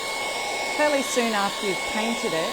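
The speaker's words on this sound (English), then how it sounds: "if I get the hairdryer and hit that with the hairdryer" A hairdryer blows steadily at close range over wet chalk paint with salt impasto texture, a constant loud whir, while a person speaks over it.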